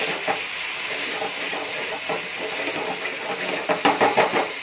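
Dried herbs being stirred into a mixture in a hot pan, a steady sizzling hiss with scraping stir strokes, busier toward the end, no talk.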